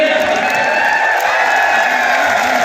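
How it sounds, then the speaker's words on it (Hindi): Large crowd at a Haryana government announcement event bursting into loud, dense applause with cheering, steady and sustained throughout, filling the space with no break. "अभी तालियां कैसे बज गई"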